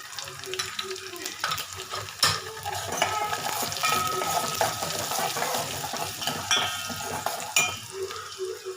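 Onions frying in oil with red chili powder give off a busy, continuous crackling sizzle, with frequent stirring scrapes and light clinks of a spoon against the pan. No voices are heard.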